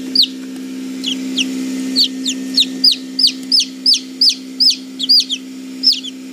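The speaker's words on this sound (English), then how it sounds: "let's look at the chooks" Several chickens (chooks) clucking close by, a steady run of short repeated calls over a constant low hum, with no talk.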